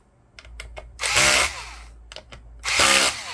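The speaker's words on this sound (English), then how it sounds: "Now I'm going to go back and tighten them down." A power screwdriver tightens screws on a Lenovo Ideapad Edge E545 laptop in two short whirring bursts, each preceded by light ticking clicks, close and clear.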